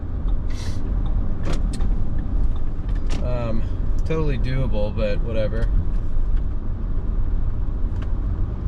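Rush hour traffic on Houston's highway 288 North: a steady, continuous road rumble of passing vehicles from inside a car, with a person talking over it partway through.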